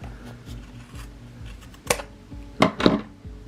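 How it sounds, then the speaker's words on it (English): Scissors snipping through yarn held against a ruler while making a boho bag dangle, several quiet close crisp cuts in a rhythmic series, the last two sharper and louder. "I'm going to go ahead and stick my scissors through"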